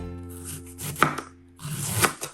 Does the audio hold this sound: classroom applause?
no